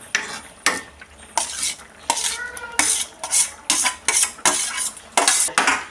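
A spoon stirs boiled, mashed potatoes into thickened, bubbling curry paste in a pot. Repeated loud, rhythmic scraping strokes come about every half second over a soft simmer, with no voices.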